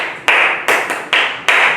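Four short bursts of group clapping in a steady rhythm, loud and close, as a reception class of kids applauds together during a phonics lesson.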